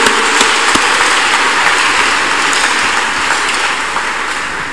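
A congregation at a Thursday counselling and deliverance church service claps loudly in a full, continuous burst, with a few sharper hand strikes standing out before the sound eases slightly toward the end.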